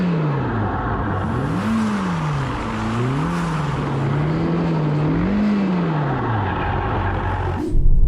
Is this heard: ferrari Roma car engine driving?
yes